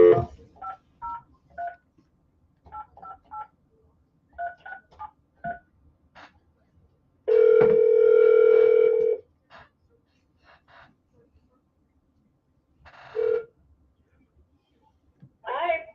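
A telephone is dialed with a quick series of DTMF tone beeps, then a single long ring tone sounds loudly for about two seconds, followed later by a shorter ring burst.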